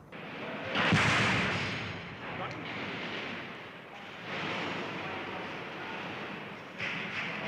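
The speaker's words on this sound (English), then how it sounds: "That was mortar. That was a mortar right in the front garden." A mortar shell bursts in a front garden with a heavy, close blast near the start, followed by a long rolling rumble and debris noise that swells again later.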